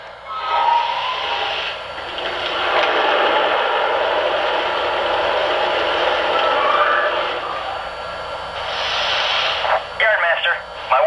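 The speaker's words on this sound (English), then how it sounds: "Here's the sound of water being loaded into the tender," Lionel two-truck Shay model locomotive sound effect of water filling the tender, a steady rushing hiss lasting several seconds, followed by a radio-style voice transmission.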